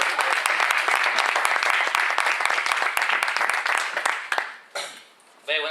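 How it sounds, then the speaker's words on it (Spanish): Audience applause at a book presentation, steady dense clapping for about four and a half seconds that then fades and thins out, with a brief voice near the end. "Un aplauso para Yolanda, que antes nos hemos dado."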